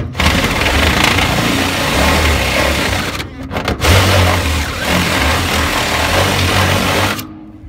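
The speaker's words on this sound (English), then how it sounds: "I'm just going to drill it a little bit bigger so we can get our bolt through." Power drill enlarging a bolt hole for a fitting installation, a loud steady whine that dips briefly mid-way, then resumes and cuts off near the end, close to the mic.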